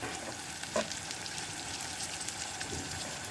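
Onion, tomato, green chilli and curry leaves sautéing in a biryani pot give a soft, continuous sizzle with a single brief clink of a utensil, close but quiet, with no voices.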